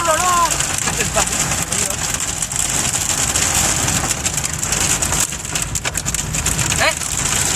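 A violent hailstorm in a July thunderstorm, a dense and loud clatter of hailstones pounding hard surfaces without letup, with brief voices talking now and then under the din.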